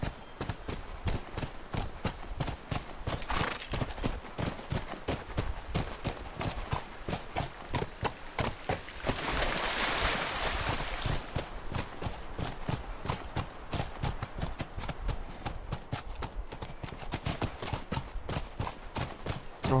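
Steady rhythmic clip-clop of horse hooves walking in The Last of Us, close and continuous, with a brief burst of rushing noise partway through.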